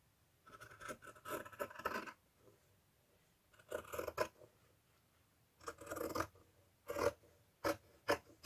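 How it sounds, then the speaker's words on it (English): Scissors snip through excess fabric while a fairy journal cover is being made, giving close, crisp cutting strokes in four short bursts separated by quiet pauses. "And I'm going to cut off the excess fabric."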